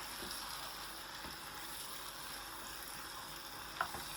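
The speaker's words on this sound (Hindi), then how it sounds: "ये देखिए, अब इनको हम 5-6 मिनट भूनेंगे" Eggplant frying in a pan with spices, a steady faint sizzle running throughout with one small sharp tick near the end, no voices.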